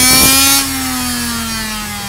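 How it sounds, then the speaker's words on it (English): A supercharged 1/5th scale engine runs on a dyno, a loud, steady high-pitched mechanical whine that surges briefly at the start and then holds an even drone. "Now we're going into our second stock test."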